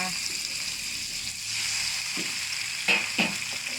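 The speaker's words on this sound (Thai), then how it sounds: "เป็นสีนี้แล้วใส่ไข่ลงไปนะคะ" Egg sizzling in a hot pan while making pad see ew with pork, a steady close frying hiss with a couple of brief clinks from stirring.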